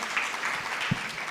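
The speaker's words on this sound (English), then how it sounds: "Please give my amazing panel a round of applause." Faint, thin applause from the audience of a fireside chat for the panel, a short soft smatter of clapping lasting barely over a second with one slightly louder clap near the end.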